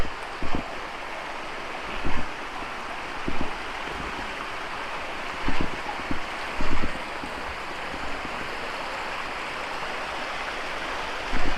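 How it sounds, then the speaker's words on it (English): Aber Falls waterfall in Wales rushes in a steady, broad roar of falling water that fills the whole scene, with a few brief louder knocks and splashes rising above the constant wash. "And Shane wants to get the FPV and climb that waterfall"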